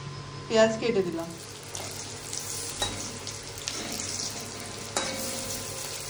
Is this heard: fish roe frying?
yes